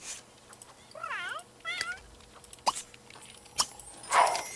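A cat in the video game The Sims 3 meows with a wavering, drawn-out call, followed by a few shorter chirps and clicks, fairly close with quiet background noise.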